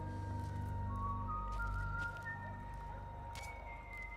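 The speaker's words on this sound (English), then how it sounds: "Do you hear whistling?" Faint, thin whistling drifts through the quiet ambient soundscape of the Metal Gear Solid 4 video game, a few sustained notes stepping in pitch over a low background hum.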